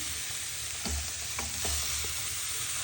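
Soaked kurdai stir-fries in a pan, a close, even sizzle with several short scraping stirs of a spoon.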